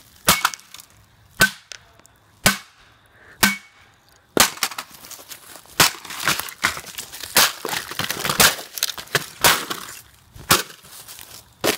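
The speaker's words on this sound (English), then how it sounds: "We're gonna go ahead and hit it a couple more times right on the keyboard." A computer keyboard being smashed with hard blows: four separated sharp cracks with pauses, then a quicker cluster of splintering, crunching hits of plastic breaking, loud and close, with no talk.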